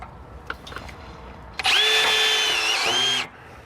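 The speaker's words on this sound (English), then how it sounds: "we're just going to take a self-tapping screw and push that right through and mount up our base up onto our trailer tongue" A power drill drives a self-tapping screw into the metal tongue of a 2018 Forest River RV trailer, mounting a base. One loud, steady whine lasts about a second and a half, rising slightly in pitch, then cuts off, with a few faint knocks before it.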